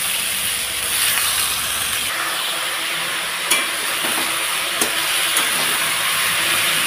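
Cut vegetables hit hot oil in a pan of old-style fish head curry with jackfruit seeds, producing a loud, dense, continuous close-up sizzle and hiss with a few sharp clicks.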